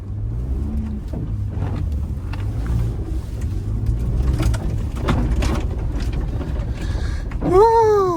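A quad bike engine running with a low steady rumble, then revving sharply near the end with a rising and falling whine; faint voices are heard beneath the engine noise.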